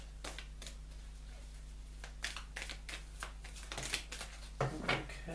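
Oracle cards shuffled by hand during a psychic reading, giving a run of soft, irregular riffling and tapping bursts over a low steady hum, fairly quiet and close, with no talking.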